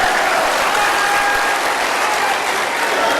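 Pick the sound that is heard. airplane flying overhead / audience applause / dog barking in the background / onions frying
audience applause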